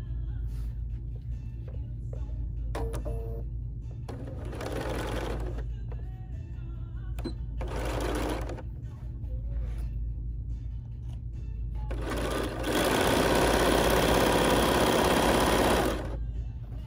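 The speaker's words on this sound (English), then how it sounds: "she's going to sew her 5/8 of an inch seam allowance" A sewing machine stitches the 5/8-inch side seams of a bow blouse in several loud bursts of steady whirring, the longest near the end, over a constant low hum with short pauses between runs.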